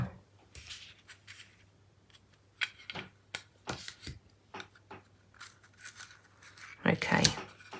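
A craft card with a die passes through a die cutting machine, a soft rolling rub rising to a louder grinding crunch near the end, after a run of quieter scraping and handling sounds.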